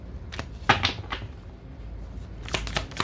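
Tarot cards handled and shuffled in a quiet room, with scattered papery slaps and riffling bursts at the start and a brisk cluster near the end, fairly close and moderately soft.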